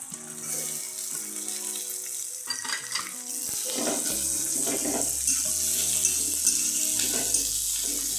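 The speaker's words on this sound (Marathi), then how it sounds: "कांदा आपण आता भाजून घेऊया" Onion frying in a pan for homemade puri bhaji, a soft, steady sizzle under background music.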